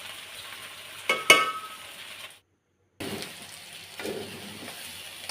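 Onion, ginger and garlic paste fries in oil for soybean curry, a soft steady sizzle broken by a couple of sharp clinks of a utensil against the pot, a brief silent gap, then the sizzle resumes.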